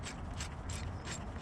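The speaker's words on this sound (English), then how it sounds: "I'm going to try and use a oil filter wrench like so" Oil filter wrench gripping and turning the fuel filter on a Mitsubishi L200 K74: a short, close, continuous scraping rub with faint rhythmic ratcheting pulses.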